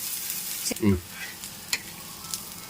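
Flatbread made with drumstick leaves and onions sizzles softly on a hot pan as it is flipped, with a brief louder scrape and pat at the turn over a steady faint frying hiss.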